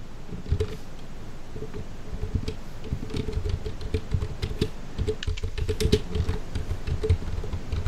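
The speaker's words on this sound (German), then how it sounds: "Die arme Tastatur, ey, die tut mir echt so leid." Hard, rapid typing on a computer keyboard, dense clattering keystrokes rattling along steadily for the whole stretch, close and fairly loud, with no talking.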